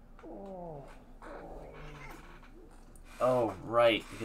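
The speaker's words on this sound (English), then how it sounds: "Cat." A cat meows in the video game Deus Ex: Human Revolution, a few short close meows followed by two louder, rising ones at the end.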